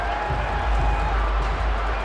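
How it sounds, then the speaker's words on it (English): Stadium crowd noise in the football video game Madden 23, at a Seattle Seahawks versus Los Angeles Rams matchup. A dense, continuous roar of cheering fills the whole two seconds at a steady, loud level. "Here comes a big one as this crowd gets out making some noise."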